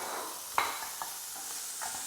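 Smoked streaky bacon lardons sizzle quietly in a pan, a faint steady frying hiss broken by a few soft taps and stirs.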